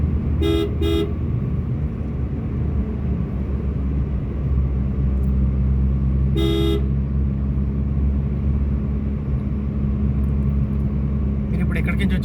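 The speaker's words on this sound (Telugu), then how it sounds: "హారన్." Car horn in traffic during a driving lesson in Uppal: two quick toots, then a single honk several seconds later, over a constant low engine and road rumble from inside the car.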